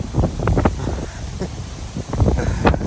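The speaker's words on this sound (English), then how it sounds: "it's super windy" Strong gusty wind buffets the microphone, a constant rumbling rush with brief rustling bursts on top.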